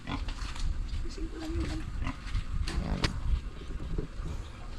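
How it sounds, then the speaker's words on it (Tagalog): A pig grunts and oinks faintly on a farm, with brief low snorts mixed into background noise and nearby talking. "Lumakad yung baboy."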